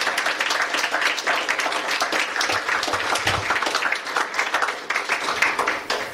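Audience applause at a fundraising gala for the CCMF-Ottawa, honouring VIP registrants: a dense, steady roomful of clapping that runs unbroken throughout, fairly loud and close, with no voices over it.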